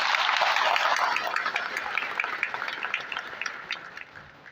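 Members at a party district general meeting in Namakkal applaud as a special resolution is passed, a loud crowd of clapping that starts dense and thins into scattered individual claps as it tapers off.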